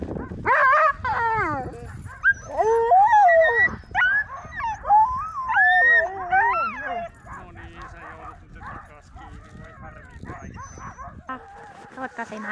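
Greenland dogs, including a 7-month-old female, howl, yip and whimper in rising, wavering cries close by, with a few barks and people talking now and then.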